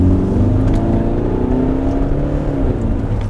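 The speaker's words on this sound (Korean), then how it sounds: "엔진 소음을 한번 들어보죠." Kia All-New Carnival minivan engine revving from inside the cabin, a loud, coarse drone rising steadily in pitch as RPM climbs, with road whir beneath and no talking.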